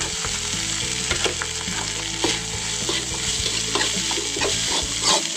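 Corn rice stir-fried in a pan with fragrant spice paste, steady sizzling under repeated scraping stirs of a utensil against the pan, close and fairly loud without talk.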